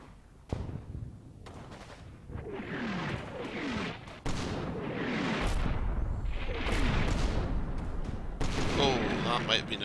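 Artillery fire and explosions from the war game Combat Mission set around Aachen, heard as a run of muffled booms and rumbling blasts with a voice talking over them.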